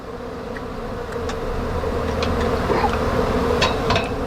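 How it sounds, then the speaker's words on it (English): Honey bees buzz in a dense, continuous drone during a hive removal in Weslaco, Texas, with individual bees whining past the microphone at close range over a steady low hum. "There's your queen bee right here."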